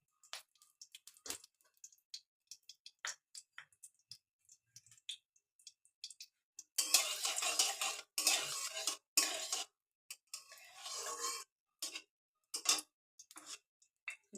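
A utensil works rice in hot ghee in a small wok, starting with scattered light metallic clicks and taps, then moving into several bursts of louder, gritty scraping and stirring.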